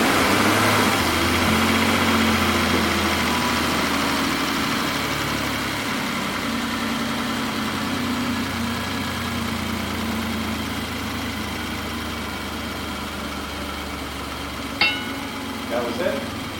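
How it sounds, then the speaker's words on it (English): A BMW 735iL engine idles steadily with a low rumble and a constant drone that fades slightly over time, and a few brief knocks come near the end. "Let's crank it over and see what happens."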